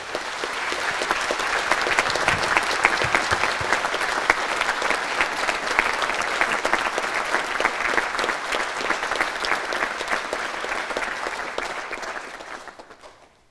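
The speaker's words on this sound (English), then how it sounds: "please give them a round of applause." Sustained, dense applause from a concert audience at a spring band and choir concert, steady and loud for over twelve seconds before tapering off at the end.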